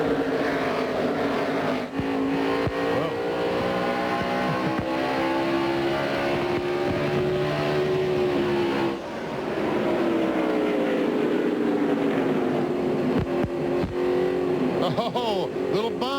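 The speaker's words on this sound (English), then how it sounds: "Here comes Jarrett for second, looking underneath Jeff Gordon" NASCAR stock cars roar past on the oval track during the 2001 New England 300, loud continuous engine drone with rising and falling pitch as cars pass close by.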